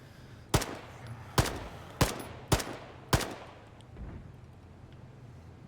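Gunfire in the military shooter game Arma 3: five sharp, loud shots spaced about half a second to a second apart, each with a ringing tail, then a fainter distant shot and one more at the end.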